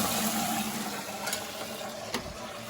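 Water drains from a hydronic boiler into a 5-gallon bucket as a steady, soft hiss and trickle, with a couple of faint clinks over the continuous flow.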